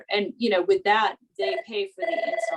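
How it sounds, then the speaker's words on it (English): An electronic telephone rings in a home with a south-facing solar-ready roof, its rapid trilling pulse entering near the end and overlapping someone talking close by. "I'm sorry about the phone noise."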